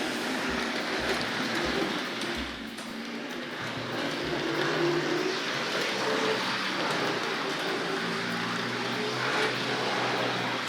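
A Tri-ang Hornby R.753 Bo-Bo electric model train with pressed steel wheels runs around a track past a station, giving a continuous close motor whir and rumbling wheel noise with a few low knocks early on.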